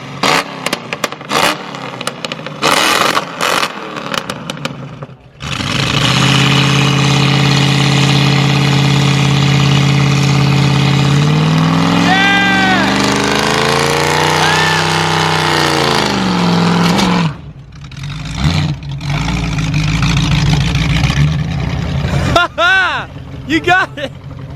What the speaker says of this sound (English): We'll see if she can burn some rubber though with these new tires from Kumo Tires.